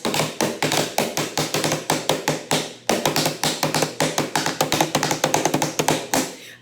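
A hand drum is tapped rapidly and continuously in uneven bursts, bright close-up slaps with a brief pause midway, no voices.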